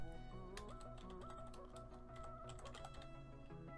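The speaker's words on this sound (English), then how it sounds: "You hear that typing?" Rapid keyboard typing clicks in an uneven stream over steady background music, fairly quiet and close.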